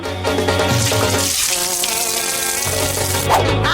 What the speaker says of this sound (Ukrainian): А тепер беремо акваріум і виливаємо всю воду.